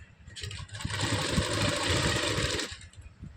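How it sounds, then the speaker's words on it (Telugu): A sewing machine stitches stretchy cloth in a steady, whirring run of about two seconds. It starts and stops fairly abruptly, with quiet handling noise before and after. "ఇక్కడ మనము స్టిచ్ అనేది వేసేసుకుందాం"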